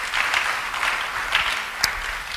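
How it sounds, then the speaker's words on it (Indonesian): A church congregation applauds during a sermon, with moderate, steady clapping from a group of people and one sharper clap standing out near the end. "Yang setuju beri tepuk tangan bagi dia."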